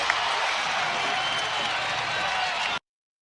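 A loud, steady roar of a large basketball arena crowd during a Mavericks scoring run fills the space, continuous and dense, then cuts off abruptly.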